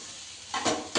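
Chopped onion frying in a pan, with a steady sizzle and two short bursts of stirring scrapes near the end.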